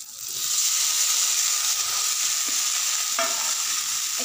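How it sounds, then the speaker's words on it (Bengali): Potatoes stir-fried with spices in a pan for egg masala curry, a loud continuous sizzle close up with a couple of brief stirring knocks. "একটু আলুটাকে কষে নেবো মশলার সাথে।"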